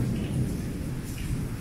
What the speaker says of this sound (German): Habt ihr den Donner gehört?